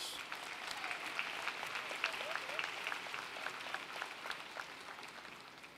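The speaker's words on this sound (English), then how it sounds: "Give them a round of applause." A commencement audience gives a round of applause: a faint, distant wash of many hands clapping steadily in a large hall, with a few louder claps and some voices mixed in.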